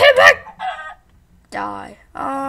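A chicken in the Minecraft video game clucks in several short, loud bursts separated by brief gaps, close and clear.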